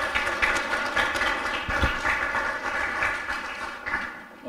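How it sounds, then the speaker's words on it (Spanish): A church conference audience claps to welcome a speaker. The applause is a steady, dense wash of clapping that holds at an even level and tapers slightly near the end. "Recibámosla con un aplauso para el Señor"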